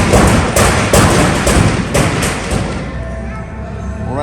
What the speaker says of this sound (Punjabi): ਹੁਣ ਇਹਨਾਂ ਪਟਾਕੇ ਤੁਸੀਂ ਸਾਡੀ ਆਵਾਜ਼ ਨਹੀਂ ਸੁਣ ਪਾ ਰਹੇ